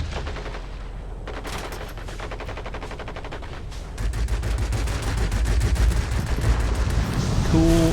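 Yak-19 cannons in World of Warplanes hammer away at ground targets in rapid continuous bursts, the firing growing louder and denser partway through over a steady engine drone, with no talk.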